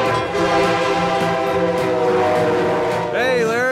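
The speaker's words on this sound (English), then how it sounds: "Train comes through." A train passes close by with a loud, steady rumble and tonal rail sound, then a wavering horn-like whistle near the end, while people talk over it.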